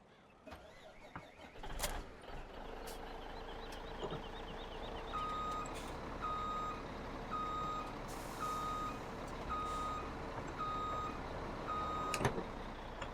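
Reversing beeps from a lorry in a snowy farming video game forest logging scene, a steady run of evenly spaced electronic beeps over a continuous engine rumble, close and fairly loud, with no talking.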